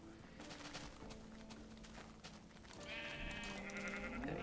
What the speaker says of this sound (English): Oh, the sheep are back.